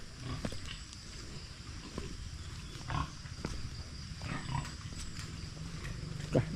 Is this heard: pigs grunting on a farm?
yes